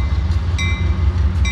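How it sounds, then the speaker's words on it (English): A freight grain train led by an AC6000 locomotive rolls past on the rails at Roseville, a loud, steady, close rumble with a constant mechanical hum and brief high metallic squeals from the wheels. "It's like a grain train."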